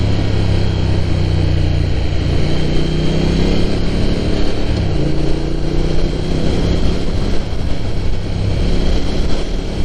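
A motorcycle rides on open roads in Chiba, Japan, its engine droning steadily and close for the whole stretch, with wind rush and road noise blended in and no talking.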